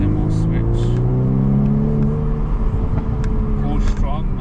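A VW Golf R Mk8 with a 2-litre EA888 engine accelerates, its steady engine drone climbing in pitch under a voice talking throughout.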